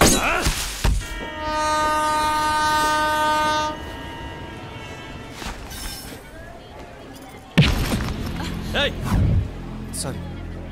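A train in a film scene sounds a long, steady horn blast, then settles into a continuous rolling rumble, with another loud burst of rail noise near the end.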